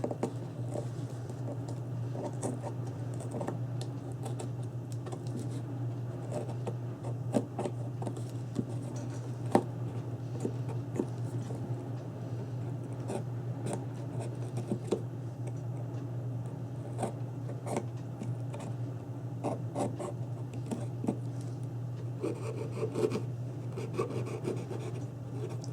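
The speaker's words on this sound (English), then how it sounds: "I'm just cutting that paper where that slot is." Paper for a camera album box is cut along a slot, giving faint, repeated rasping and scraping strokes with small taps over a low steady hum.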